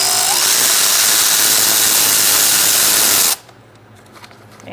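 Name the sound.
10mm socket removing bolts on a Subaru Forester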